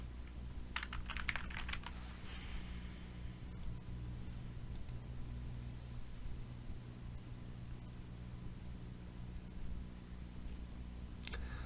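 Someone types on a computer keyboard, with a short cluster of quick key clicks near the start and a few faint taps later over a steady low background hum.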